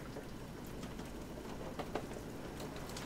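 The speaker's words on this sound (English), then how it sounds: "It is raining outside." Rain falling outside in cold weather after snow, a faint steady patter with scattered soft drops, heard from indoors with no talking.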